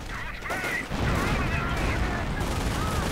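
Grenade blast and gunfire from a WWII real-time strategy game, a dense rumbling rattle of rapid shots and explosions that swells after the first second and stays loud, with voices speaking over it.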